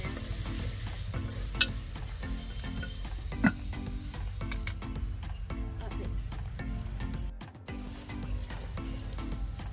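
Onions frying in a pan for egg curry, a steady close sizzle with periodic stirring scrapes in a regular rhythm throughout, plus a couple of sharp clinks.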